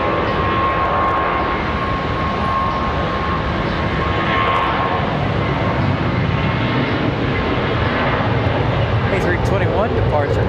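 An Airbus A321 jet airliner departs Charlotte Douglas, its loud, sustained engine roar filling the scene with a thin tonal whine early on, while someone talks over it.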